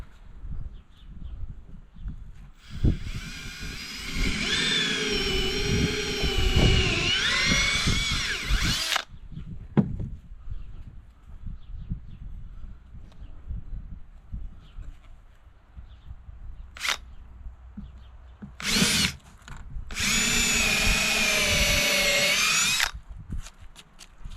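Power drill boring 1.5 inch deep holes into a mushroom log, with a long loud whining run, several short bursts and another long run, close up, with quieter outdoor handling noise and birds in between.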